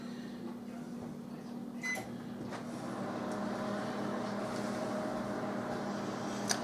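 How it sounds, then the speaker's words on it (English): A microwave oven heats a small bowl, giving a steady low hum with a faint tonal drone throughout, a few soft clicks and knocks early on, and a brief beep-like tick at the end. "I'm going to microwave it for 20 seconds"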